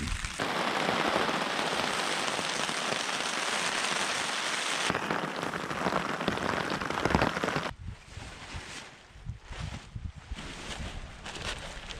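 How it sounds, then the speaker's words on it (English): Heavy rain drums steadily on an HMG Mid 1 tent, a dense close hiss that shifts partway through to a patchier, uneven patter. "I'm sure it's too loud with all the rain"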